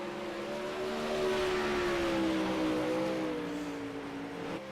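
Race cars running on the track at the Grove, a sustained engine drone with steady harmonic tones that swells slightly and then eases as the group passes at speed.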